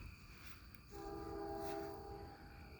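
A freight train's horn sounds a steady chord as the train approaches a road crossing near Bell Buckle, Tennessee, heard from a distance over low rumbling.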